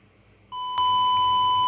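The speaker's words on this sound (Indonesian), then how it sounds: "buzzer akan menghasilkan suara yang mengartikan indikator bahaya bahwa beban listrik sudah melebihi 500 watt" A steady electronic overload warning buzzer on a smart power socket switches on when the load exceeds 500 watts, holding a continuous high tone, getting louder partway through, with no voices.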